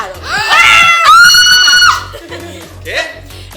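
A loud, high-pitched human scream rises sharply and holds for nearly a second, set among excited voices and brief laughter during a lively quiz game.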